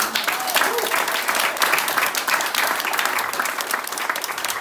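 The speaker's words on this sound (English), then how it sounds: "Round of applause for Adisa." A seated audience at a Bay Area panel discussion applauds a speaker, a jiu-jitsu teacher and community activist, with dense, steady clapping that holds at an even level for the whole stretch.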